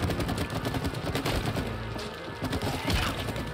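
Rapid shooting in the It Takes Two video game, a dense continuous clatter of shots with splintering wooden impacts and thuds, loud and steady throughout with no voices.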